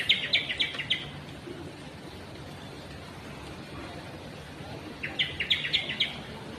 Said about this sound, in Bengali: পাখিতে ডাকছে